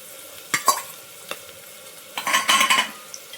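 Green chillies stirred into lightly browned, sautéed onions in a pan, with a few scraping spoon strokes, then a busier burst of sizzle and clatter near the end.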